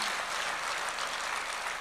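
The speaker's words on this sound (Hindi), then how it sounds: "ताली बजाना है तो ठीक से बजाओ भैया" Audience clapping steadily through a spiritual discourse by Pandit Vijay Shankar Mehta, a dense, even wash of applause held at one level from start to finish, with no voices heard over it.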